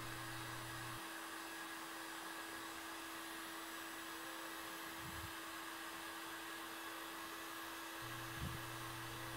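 Heat gun blowing hot air onto the tail of a diecast Dinky Toys Stuka dive bomber model during restoration, a constant loud fan roar with a faint underlying hum and a couple of brief knocks.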